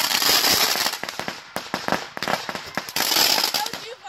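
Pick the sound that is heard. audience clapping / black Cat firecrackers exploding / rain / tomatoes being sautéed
black Cat firecrackers exploding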